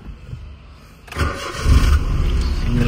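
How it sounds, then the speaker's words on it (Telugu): A Maruti Alto K10 engine in very good condition cranks briefly on a single self-start and catches, then settles into a steady idle rumble, close by with no talking. "సింగిల్ సెల్ఫ్ స్టార్ట్ అవుతుంటారు"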